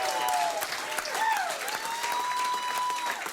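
Live comedy club audience on a Saturday late show in Toronto cheering and applauding, a dense, steady wash of clapping with whoops rising above it throughout, loud and close.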